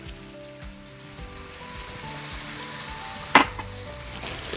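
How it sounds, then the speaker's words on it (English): Beef broth poured into a sizzling cheeseburger skillet, a sharp burst of hissing sizzle rising over a steady frying crackle, close and fairly loud. "Now we want to add in 1 cup of beef broth"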